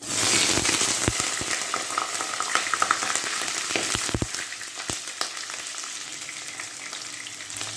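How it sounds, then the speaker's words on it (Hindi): Medium onion and a dozen or so soaked almonds frying in hot oil, a continuous loud sizzle with a few sharp clinks and stirring taps scattered through, no voices. "12 से 15 बादाम है, ये डाल दूँगी ऑयल में।"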